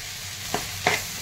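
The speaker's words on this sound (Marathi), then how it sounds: "तर कढीपत्ता, लसूण आणि अद्रक हे तेलामध्ये परतून घेतलेलं आहे." Curry leaves, garlic and ginger sautéing in hot oil give a steady low sizzle, with two short spoon scrapes against the pan standing out near the middle and end.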